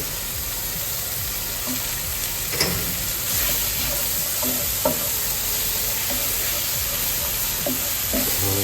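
Tomatoes frying in a pan for Sri Lankan sambal, with a steady hiss and sizzle and occasional scrapes and clicks of stirring throughout.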